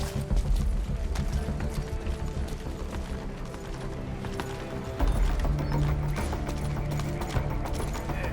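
Galloping horse hooves from D-Horse in Metal Gear Solid 5 game, a steady clip-clop rhythm running throughout under dense game ambience and music, loud and close, with a louder surge midway.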